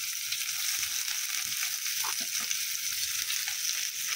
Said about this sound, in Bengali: এর মধ্যে আমি পেঁয়াজটা দিয়ে দিলাম,